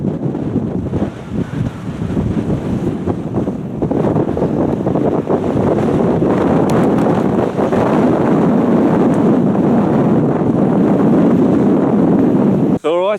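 Strong wind buffets a microphone on a cold hilltop near Mount Buller, a loud continuous roar and rumble with gusting surges throughout.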